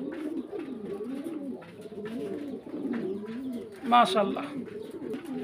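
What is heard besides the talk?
pigeons cooing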